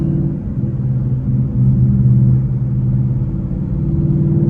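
A Ford Mustang Bullitt V8 idles with a deep, steady exhaust burble and low rumble, close and fairly loud, with a slight swell in the middle and no talking.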